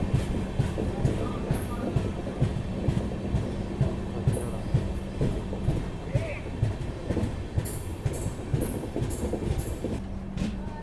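Passenger train at a station platform on the Pune–Kanniyakumari Express route, with rhythmic clickety-clack of wheels and steady rolling rumble throughout, a few higher squeals near the end, and a voice talking faintly under it.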